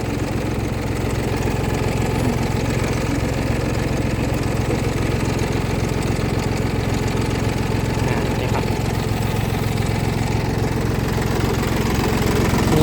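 An ISEKI LandHope 257 tractor's diesel engine runs steadily and close by, a loud continuous chugging idle with a rough, knocking texture that holds at an even level throughout, with no talk over it.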